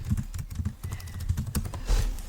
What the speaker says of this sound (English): So I'm just going to type something